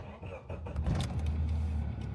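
A Chery Amulet 1.6 car engine turns over and settles into a steady low idle, close and fairly loud, with a brief rise in revs as it catches.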